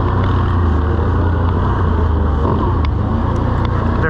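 Can-Am Outlander XT-P Max 1000R ATV on ITP Cryptic 30-inch tires, running on icy hills with a long exhaust pipe, its engine giving a steady, loud, close drone with no pauses.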